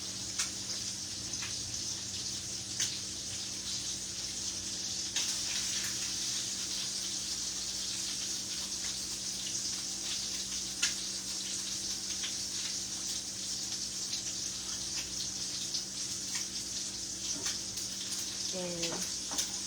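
Tap water runs steadily over a romaine lettuce heart being rinsed at a sink, a continuous hiss with faint handling noises and a brief splash near the end.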